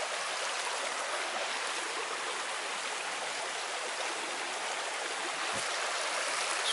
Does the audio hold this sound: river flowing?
yes